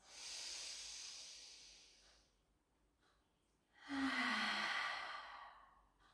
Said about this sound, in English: take a beautiful breath in, let the belly rise.